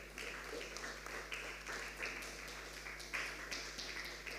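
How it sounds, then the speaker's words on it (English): Audience applause for school quiz contestants at a semi-final, a steady patter of many hands clapping at moderate distance, fairly quiet and sustained throughout with no talking. "So give yourselves a round of applause."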